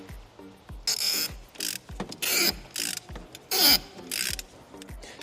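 Wrench ratcheting while loosening a spark plug on a Ford Focus ST Mk2, a series of close, crisp clicking bursts repeating in short strokes with brief pauses between them.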